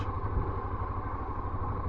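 A BMW F650ST motorcycle rides along a touring road in Ribeira Sacra, Galicia, Spain, its engine a steady low drone blended with wind rush, constant and fairly loud without breaks.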